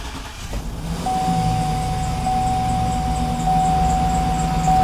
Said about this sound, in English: as you can hear, the engine is running